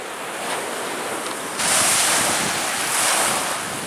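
Wind and waves at a Lake Superior-area shore in Northern Wisconsin after a front passes, with a constant roar of surf and gusty wind buffeting the microphone that swells louder partway through.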